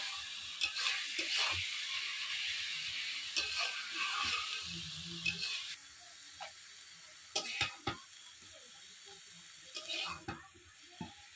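Mustard greens (sarson saag) frying in plenty of oil, a soft steady sizzle with scattered clinks and scrapes of a spatula against the pan, fairly quiet and close, no talking.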